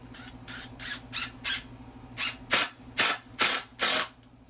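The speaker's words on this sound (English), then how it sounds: "So I'm just going to put a couple screws in and we'll go, right?" A power drill drives screws into pallet wood for a Halloween coffin, a series of about ten short whirring, ratcheting bursts close by, spaced unevenly with small pauses between, and no one talking.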